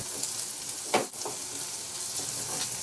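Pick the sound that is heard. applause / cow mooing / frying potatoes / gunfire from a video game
frying potatoes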